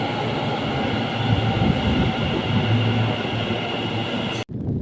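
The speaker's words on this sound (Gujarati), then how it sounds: "મેટ્રો ફાઇનલી આવી ગઈ છે." A metro train on the Ahmedabad line rolls into a station, a loud steady rumble and hum close by, with no talk, ending in a sudden cut near the end.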